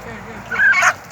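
A single short honk from a village goose or fowl at feeding time, close and fairly loud, lasting under a second over a quiet background.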